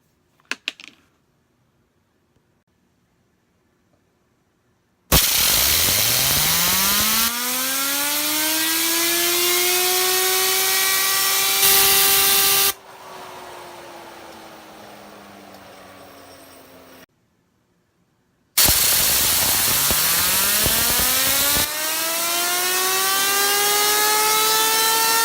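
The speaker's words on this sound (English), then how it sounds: "So I'm gonna fire up the air hose and see how well this one works out." An air hose spins up a cheap King Kong fidget spinner twice, each run a loud, sustained whir whose pitch climbs sharply, holds, and shifts as airflow changes, separated by a near-silent pause.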